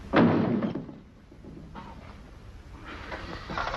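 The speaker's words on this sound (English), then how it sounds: "And don't slam the door as you go out." A heavy door slams shut in an old Western-era interior, a single loud thud at the start that decays into room noise, followed by faint shuffling and low background sounds.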